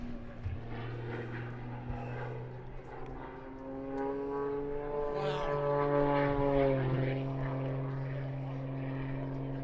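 A propeller aerobatic airplane hangs in a hover at an air show, its engine droning steadily at a distance and then swelling louder as the pitch bends, with a crowd and commentators talking beneath it.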